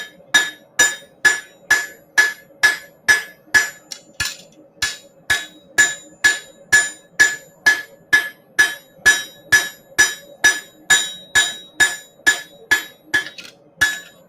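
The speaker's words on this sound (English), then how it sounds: "I'm hitting in the middle of the knife now." A hammer strikes a knife blade flat on an anvil at a knifemakers' hammer-in, about thirty bright ringing blows in a steady, even rhythm, close and loud with no talk.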